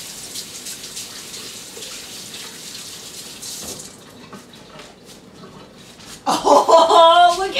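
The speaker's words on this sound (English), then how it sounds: "let's wash my hands" Hands washed under running tap water in a home kitchen sink, a steady close hiss of flowing water that fades, then returns louder as the water splashes, with laughter and talk mixed in.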